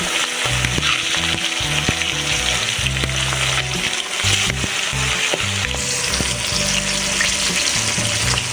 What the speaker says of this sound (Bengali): মাছটা ভাজার জন্য আমি কড়াইতে তেল দিয়েছি। তেলটা গরম হয়ে গেছে। এবার একটা একটা করে মাছটা দিই।